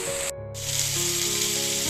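Steady, loud sizzling of taro stolons frying in a hot pan, a continuous hiss with a brief dip near the start. Nobody speaks.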